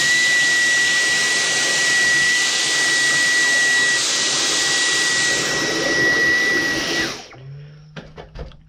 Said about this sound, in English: get your vacuum, and your vacuum should suck out more of the dust